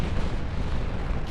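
A torpedo strikes a warship in the naval battle game Ultimate Admiral: Dreadnoughts, a dense low rumbling explosion rolling on through the whole moment without a sharp onset.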